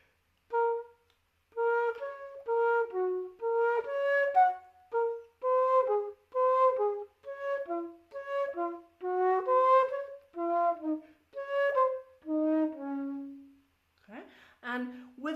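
Baroque flute traverso plays a lively Corelli passage with paired two-and-two tonguing, crisp detached notes falling in steady rhythmic groups, heard clearly and alone.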